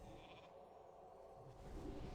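Sheep bleats from the polymorph spell in World of Warcraft during a Naxxramas raid, a brief bleat sitting inside dense, continuous game noise.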